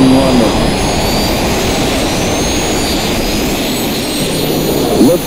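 Jetpack engines roar at full thrust in a loud, steady, close-up jet-like rush that holds for several seconds with no pause, with a faint shift right at the end.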